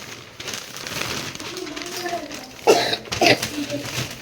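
A child with a fever gives a couple of short, sharp coughs near the end of the clip, close and loud over a noisy indoor background.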